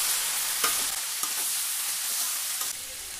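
Bitter gourd and potato with spices and salt get stirred in a hot pan, a continuous sizzle broken by several scraping spatula strokes close up.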